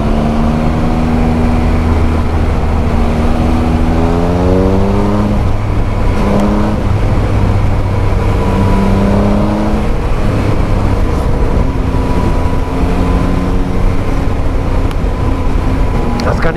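A Yamaha MT-07 and a Triumph Speed Triple RS ride along a country road, engines droning and shifting pitch as they accelerate, loud and constant under wind noise and someone talking.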